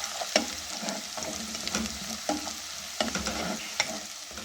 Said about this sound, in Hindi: थोड़ा सा 2-3 मिनट इसको भूनेंगे कि गार्लिक भी अच्छी तरह कुक हो जाए।